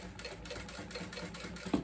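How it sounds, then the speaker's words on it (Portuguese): A sewing machine stitching polyester-backed synthetic fabric for a large beach bag, a quick even run of needle strokes in a steady rhythm, close and fairly quiet with no talking. "Tô gostando de costurar ele, por enquanto não me deu trabalho, não enroscou na máquina."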